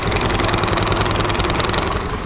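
A Honda Activa scooter engine, just after a bent crankshaft was straightened, runs at a steady idle up close, with a loud, continuous mechanical chatter and vibration and no voices.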